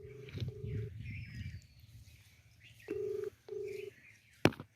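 Telephone dialing tones beep in short steady bursts, a few spaced presses close by, followed by a sharp click.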